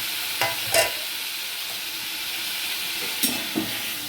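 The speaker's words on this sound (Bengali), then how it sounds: "আমি পনিরগুলো ভেজে নেব" Paneer frying in hot oil seasoned with turmeric and salt, a steady soft sizzle with a few brief louder crackles and stirring scrapes, close and moderately quiet.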